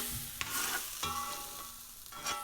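Welsh cakes sizzling in a new cast iron pan on a stovetop, a steady close frying hiss broken by several soft clicks and scrapes, with no voices.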